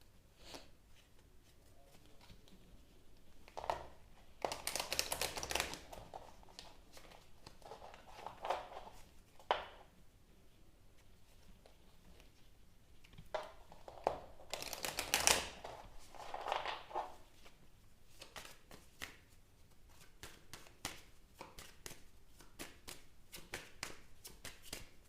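A deck of tarot-style cards is shuffled by hand, soft riffling and flicking bursts coming in irregular clusters with quiet gaps between, close and faint.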